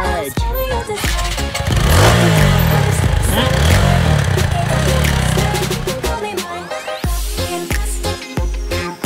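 A motorcycle engine cranks, catches and revs up close, then settles into a rumbling idle. Music plays around it, and there is a brief voice.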